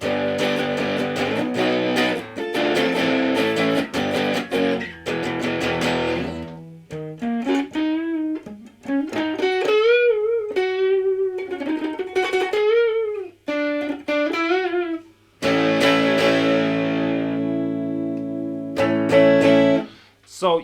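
An electric guitar with humbucker pickups plays through distortion: thick sustained chords, then single bending notes, then ringing chords again, loud and close.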